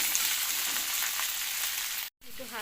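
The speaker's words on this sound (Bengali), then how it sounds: "কাঁঠালাটা বীজগুলো দিয়ে একসাথে ভালো করে লাল লাল করে ভেজে নেব।" Jackfruit seeds frying together in a pan to a reddish colour give a steady, close sizzle with faint stirring, then a brief silent gap and the frying resuming.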